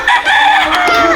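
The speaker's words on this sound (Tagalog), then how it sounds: "mga manok." Chickens cluck and a rooster crows close by in a rural Philippine yard, a loud, strained crowing call filling the short moment with clucking mixed in.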